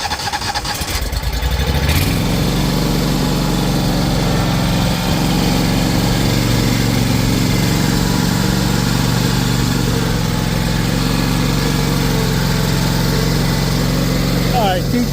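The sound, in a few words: lawn mower engine running while mowing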